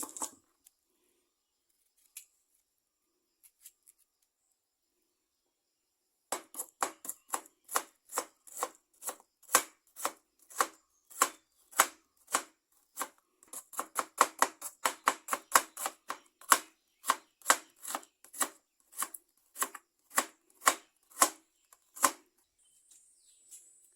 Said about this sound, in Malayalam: ഇനി നമുക്കൊരു സവോള കട്ട് ചെയ്തെടുക്കാം